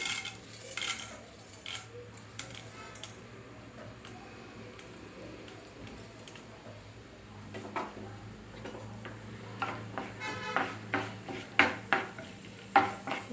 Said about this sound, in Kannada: ಫ್ರೈ ಮಾಡೋದಕ್ಕೆ ಎಷ್ಟು ಬೇಕೋ ಅಷ್ಟು ಹಾಕ್ಕೊಳ್ಳಿ ಕಡಲೆಬೇಳೆ ಹಾಕ್ತಾಯಿದ್ದೀನಿ